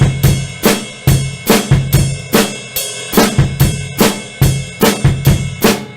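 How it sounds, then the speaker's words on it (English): A drum kit plays a steady rock beat, with kick and snare hits and a hi-hat chick on beats 2 and 4, close, punchy and regular with no talking. "I just add the hi-hat chick on 2 and 4 throughout the whole thing."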